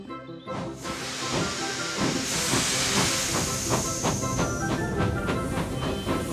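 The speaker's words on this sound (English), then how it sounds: "steam puffs from the engine's funnel." Steady loud hiss of steam with rhythmic chuffing puffs from a nearby steam locomotive's funnel, repeating through the clip without speech.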